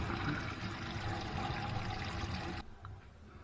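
Water drains steadily through a sink drain after a washer has been tightened, a continuous close rushing pour that stops abruptly near the end, leaving a faint drip.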